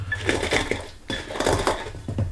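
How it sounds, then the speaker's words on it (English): Nuts are crushed by hand with a measuring cup for homemade granola, a run of crunchy cracks and clinks from cup against dish in two bursts separated by a brief pause, close and fairly loud. "It's easier to crush these up by hand than to wash the dishes right now."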